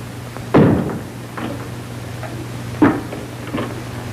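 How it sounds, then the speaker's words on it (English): A door being shut in an old 1940 film scene: a sharp thump followed by another solid knock a couple of seconds later, close and fairly loud over a low hum. "Close that door."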